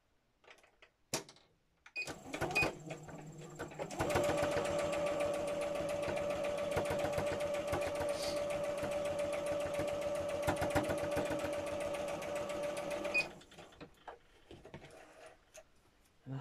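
A sewing machine stitches cotton fabric for a needle book cover in a close, rapid, even mechanical chatter that runs for about nine seconds, with a few short bursts and clicks before it and quiet after.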